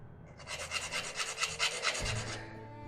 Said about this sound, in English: If you've been working with sandpaper as long as I have, and basically this is sandpaper